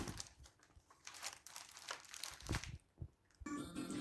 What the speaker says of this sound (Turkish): Şimdi poşetimizi alalım.